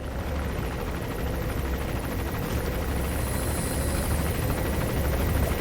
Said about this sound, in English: Wait for this helicopter to make a pass.